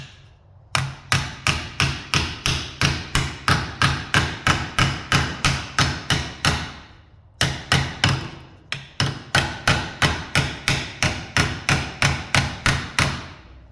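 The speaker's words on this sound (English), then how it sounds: "So we'll just get a curved flat hammer that I fixed" A curved flat hammer repeatedly strikes a car body panel, shaping it to match the contour of the original; two long runs of rapid, loud, evenly spaced metallic blows, close up, separated by a brief pause, with no talking.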